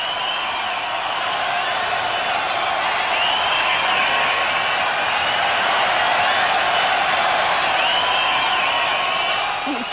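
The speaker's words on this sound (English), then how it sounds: "listen to that applause" Audience applause at a children's dance show, a loud, unbroken roar of clapping mixed with crowd noise and a few whoops, sustained for the whole stretch.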